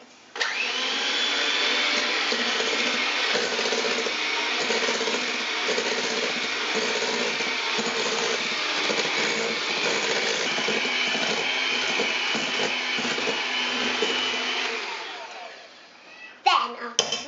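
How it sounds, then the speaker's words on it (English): Butter and sugar whipped for vanilla cupcakes with an electric mixer, a loud, steady motor whine running for about fifteen seconds before cutting off, followed by a few clatters. "Next, you have to add the butter, then the sugar. Then you have to mix for a few minutes."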